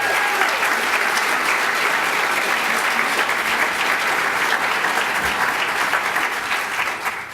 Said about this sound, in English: We should give them a little round of applause today.